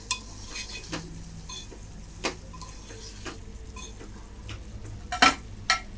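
Metal lid lifted off a pot of vaalachi ussal lentil curry, a few light clinks and taps of metal on metal near the end, with faint kitchen ticks before.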